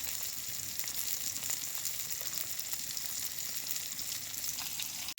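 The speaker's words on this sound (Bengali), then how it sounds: "এদিকে মাছটাও ভাজা হয়ে গেছে।" Pieces of katla fish frying in oil in a pan, cooked ahead of a taro curry; a continuous close hiss and crackle holds steady throughout with no voices, ending on a brief sharp knock.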